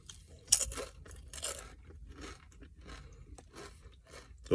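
Doritos Collisions Stranger Pizza and Cool Ranch tortilla chips crunched and chewed inside a car, with several sharp, loud bites followed by softer, steady mastication; no talking.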